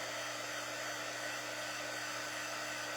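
A hair dryer blowing on pumpkins crafted from wood biscuits, a steady close whooshing roar with a constant motor hum running unbroken throughout.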